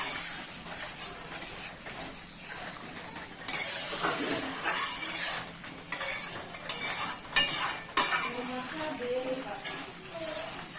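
Spice paste sizzles and fries in a pan as water is poured in, with a louder burst of bubbling hiss partway through and scraping stir strokes and utensil clinks throughout, close and fairly quiet.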